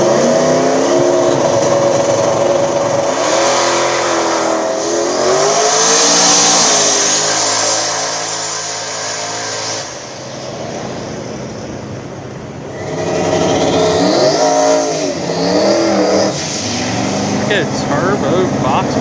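Drag racing cars at a small-tire no-prep event, a turbo Fox body against a twin-turbo Falcon, revving and accelerating loudly with rising engine sweeps and a brief lull, under an announcer's commentary.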